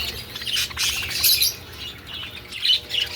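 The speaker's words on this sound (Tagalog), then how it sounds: "Yung dalawang yan ay parakeets" Parakeets squawk and chirp in short, bright bursts, close and fairly loud, calling in quick succession with brief pauses between calls.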